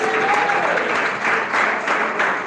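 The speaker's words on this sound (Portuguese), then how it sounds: "Mais palmas que glorificam ao Rei Jesus" Church congregation clapping in a steady, dense wash of applause that fills the room, loud and close, with no break.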